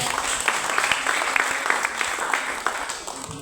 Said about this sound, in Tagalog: palakpak para sa Ginoo